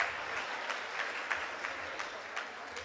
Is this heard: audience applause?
yes